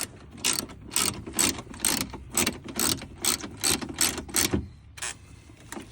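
A hand ratchet clicks in repeated rapid bursts while tightening the hood latch bolts on a 2017 Lexus RX350 whose hood would not stay closed; about ten close, loud strokes come in a steady rhythm and then stop.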